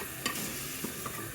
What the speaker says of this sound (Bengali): এই যে মজাদার কলিজা আমি ভুনা করে নিব এখন